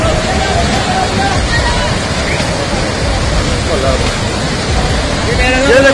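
Rushing floodwater after heavy rain at Vaishno Devi, a loud continuous broadband roar of churning water, steady and close throughout, with faint voices buried underneath.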